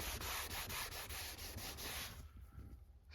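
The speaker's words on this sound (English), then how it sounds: "we're just gonna grab this cloth here supplied in the kit, and we're just gonna lightly buff" A cloth lightly buffing the leather seats of a 25-year-old BMW after conditioning, giving a steady, close rubbing swish that fades slightly near the end.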